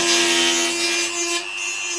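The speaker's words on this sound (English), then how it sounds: "Let's keep filing." A file rasps back and forth along the edge of toughened tempered glass, a close, bright scraping with a steady ringing tone that dips briefly midway, heard alone without speech.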